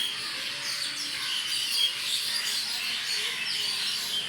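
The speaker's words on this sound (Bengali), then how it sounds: "বিকাল হলে অনেক পাখি ডাকে। চলেন আজকে আমি তাদেরকে শোনাই তাদের ডাক।" Many birds chirping and calling in the afternoon around a rural house, a dense overlapping chorus of bright tweets at moderate distance, continuous throughout without any voices.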